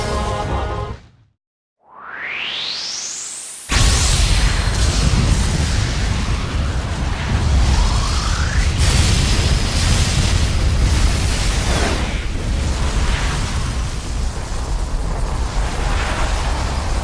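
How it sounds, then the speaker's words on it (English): Big guns on a ship fire in Rogue Galaxy: a rising whoosh and sudden launch, then a long, loud, continuous roar of blasts and explosions rumbling on without pause, no talk. "Firing big guns!"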